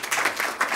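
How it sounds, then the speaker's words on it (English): Audience applause in a lecture hall at a university research-integrity event, a steady wash of many hands clapping together, moderately loud and sustained with no talk over it. "I think Ans deserves a big round of applause"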